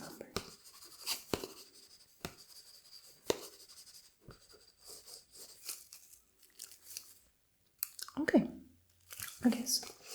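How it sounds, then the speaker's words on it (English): A pen scratches across paper in short, close, crisp strokes with pauses between them, and a soft voice speaks now and then. "Then I will just have to write down the number."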